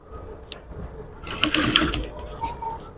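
A sewing machine stitches a curved corset cup in short close runs, a soft quiet whir that swells into a louder rapid mechanical chatter near the middle and trails off in brief bursts.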